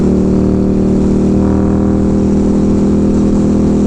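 Indian Scout Bobber motorcycle fitted with Ohlins STX36 rear shocks, ridden on the road: a loud, steady engine drone with a deep rumble and heavy wind buffeting throughout, no voices.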